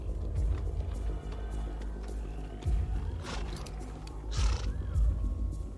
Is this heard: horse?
yes